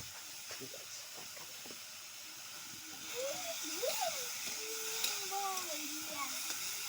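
Vegetables sizzling in a hot pan while cooking a cashew-based curry, a steady hiss with occasional crackles throughout, with faint background talk and tonal sounds partway.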